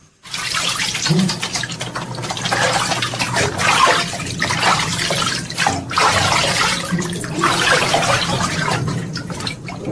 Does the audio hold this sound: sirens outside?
no